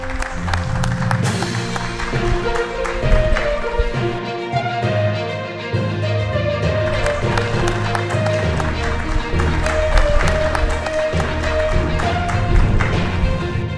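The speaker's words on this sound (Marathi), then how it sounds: "आपल्या टाळ्या कमी पडत आहेत कुठेतरी." Audience clapping at the Chhatrapati Sambhajinagar Zilla Parishad felicitation ceremony in Maharashtra: steady crowd applause throughout, with a loud announcer speaking over it through a PA system.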